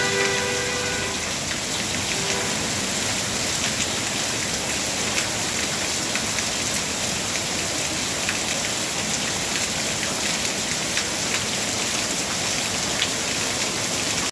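Heavy rain falls at night in the Gobi area of Erode district, Tamil Nadu, during a thunderstorm with lightning. A dense, loud and steady hiss holds for the whole stretch, with no voices and only a brief faint tone at the start.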